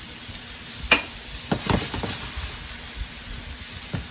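Pompano fillets frying in a pan, a soft continuous sizzle with a few scattered scrapes and taps of a utensil, close by and moderately quiet, no voices.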